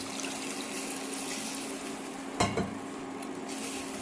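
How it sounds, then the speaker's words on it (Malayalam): Water poured into a simmering chilli curry in oil, giving a steady low hiss with a short splashing burst midway, then quiet stirring; no talking. "കുറച്ച് വെള്ളം ഒഴിച്ച് കൊടുക്കാം."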